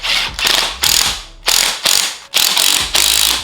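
A ratchet drives spring compressors tight on a strut from a new 8Y Audi RS3 being lowered, giving loud, close bursts of rapid clicking separated by short pauses, with no talking.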